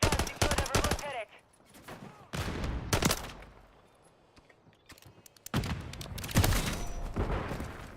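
Bursts of automatic gunfire in a first-person shooter video game, rapid fusillades broken by quieter gaps, with faint game voices and a player speaking between the volleys.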